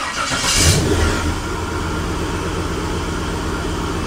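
A warmed-up motor runs steadily, a loud continuous engine drone with a brief swell near the start that settles into an even hum, with no talking.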